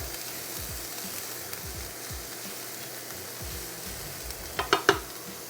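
Carrots softening in a hot pan give a low, steady sizzle with occasional soft stirring scrapes, ending in a few sharper clatters of the utensil against the pan.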